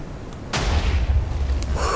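A small bomb from a video game explosives mod goes off with a sudden loud burst about halfway through, followed by a sustained rumbling roar and crackle that stays loud to the end.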